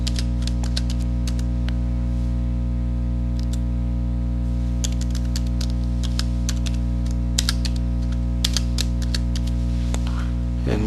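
Typing on a computer keyboard while entering a password: scattered quick key clicks in irregular bursts over a steady low electrical hum, with no voices.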